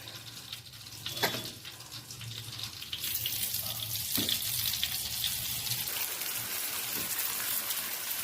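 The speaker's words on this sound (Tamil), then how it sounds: "ஸோ இதை எடுத்து நம்ம பட்டரில் போட்டு ஃப்ரை பண்ண போகிறோம்" Marinated tandoori chicken frying in butter over a low flame gives a steady hiss that swells into a louder, continuous sizzle partway through, with occasional faint clinks and no voices.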